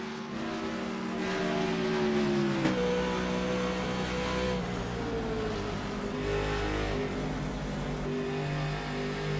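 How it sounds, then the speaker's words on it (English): A race car engine heard from onboard in a NASCAR-style video game race at Charlotte, a steady loud drone with shifting pitch as it revs and changes gear, no talking. "Engine sounds pretty decent"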